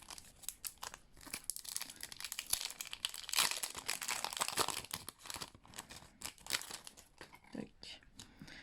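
Yu-Gi-Oh Neotempête des ténèbres booster packs being torn open from a display box, with close, repeated crinkling and tearing of foil wrappers in uneven bursts, a voice speaking at points.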